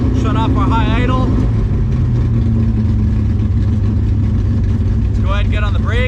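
A 1965 Chevrolet Impala SS drag car's engine revs in gear, a loud low rumbling drone with rising throttle sweeps near the start and end, with a voice talking over it.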